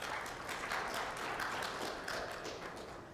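An audience at a Ministry of Education stakeholder meeting applauds its panelists, a steady, dense wash of clapping from many hands that runs throughout and fades slightly at the end.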